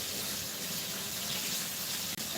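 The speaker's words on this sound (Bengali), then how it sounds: "এ জলের কি প্রেশার" Water rushes from a tap under strong pressure in a steady, close, continuous gush that fills the whole short stretch without a pause.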